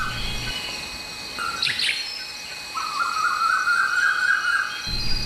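An Asian koel calls from bushes in a forest during nesting season, a sustained bird call rising clearly over steady insect chirring, with a brief higher chirp just before it.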